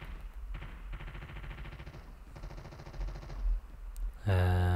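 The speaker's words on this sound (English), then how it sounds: "I hear shooting." Rapid bursts of gunfire in the Call of Duty Mobile battle royale mode, a string of fast shots that ripple through the first few seconds at moderate distance, followed by a sharper, louder close burst near the end.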